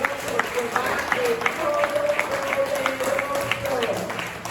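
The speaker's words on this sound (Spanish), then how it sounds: "Yo creo que Dios se merece un aplauso más fuerte" Church congregation applauding, steady crowd clapping that runs under a voice throughout, with sustained vocal tones carrying above the claps.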